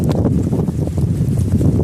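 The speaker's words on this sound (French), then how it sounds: "Il y a un vent de malade." Strong Provence wind buffets the microphone in a continuous loud low roar with fluttering gusts and no let-up throughout.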